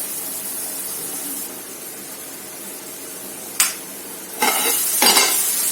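A ridge gourd curry is stirred in a pan, with a steady low sizzle and a few sharp scraping strokes of a spoon against the pan toward the end.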